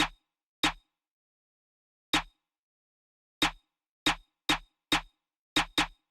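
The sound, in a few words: simple UK drill snare pattern in a beat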